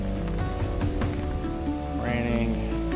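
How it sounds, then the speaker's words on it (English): Steady rain pattering on a surface, a dense continuous wash of drops with some background tones. "Raining."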